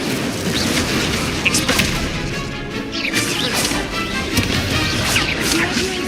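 A fire spell cast in Hogwarts Legacy combat, sharp whooshing bursts and crashing impacts in quick succession amid battle effects, with a player's voice calling out spell names over it.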